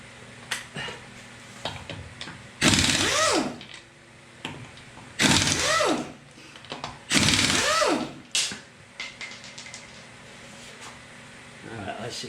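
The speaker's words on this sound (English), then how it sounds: "Okay, now we got to remove these wheel nuts." Wheel nuts being loosened on a 2001 Toyota Tacoma, 21 mm in size: three loud bursts of a whirring power tool, each lasting roughly a second and rising in pitch, with smaller clicks and clatter between them.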